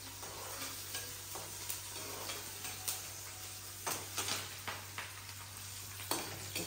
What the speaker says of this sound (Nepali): पटपट भइरहेको छ।